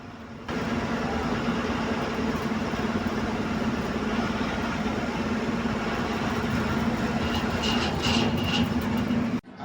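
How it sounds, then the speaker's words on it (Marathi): A train pulls into a crowded station, a steady low rumble with a sustained droning hum that holds evenly for several seconds, faint higher squeals near the end, no voices over it. "आमची ट्रेन आली आहे"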